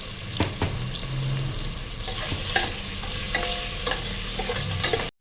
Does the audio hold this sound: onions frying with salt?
yes